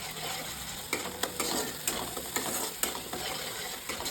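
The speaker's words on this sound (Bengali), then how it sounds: "এবার আমি মশলাটা কিছুক্ষণ সময়ের জন্য নাড়াবো।" Spice paste with turmeric frying in oil for a Bengali mustard-poppy fish curry, with a steady close sizzle and regular scraping strokes of a spoon stirring through it, no talk.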